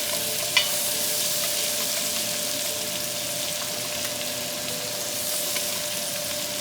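Chopped leeks fry and are stirred in a pan, making a steady, close, even sizzle with a few faint scraping stirs and no talking.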